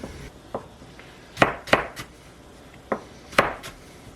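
Knife cutting carrots into thin slices on a cutting board, sharp distinct chops at an irregular pace, roughly eight cuts, close and clear over a quiet background.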